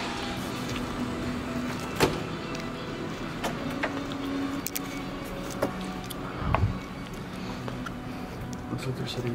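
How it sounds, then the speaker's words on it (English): A hotel room door in Orlando opens with a few sharp clicks and a low thud from the latch and frame, set against a steady room hum. "Door open."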